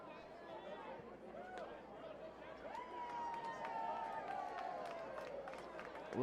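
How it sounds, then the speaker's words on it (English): A baseball crowd murmurs with a faint, distant buzz of chatter and scattered voices in a ballpark, with a whistle-like tone rising briefly above the low hubbub. "A little bit more of a buzz here in the crowd now."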